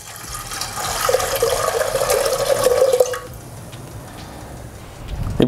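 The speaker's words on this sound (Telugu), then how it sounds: "ఇప్పుడు ఇందులో పప్పు మునిగేంత వాటర్ వేసుకుందాం." Water pours into a pot of washed lentils in a home kitchen, a steady, fairly loud filling gush for about three seconds that cuts off, leaving quiet room tone and a small knock at the end.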